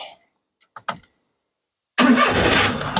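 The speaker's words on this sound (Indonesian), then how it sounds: "Sekarang kita mau coba nyalain mobil ya." A 2013 Daihatsu Xenia 1.0 M manual is started after a few faint clicks from the key, then catches abruptly into a loud, close, steady idle.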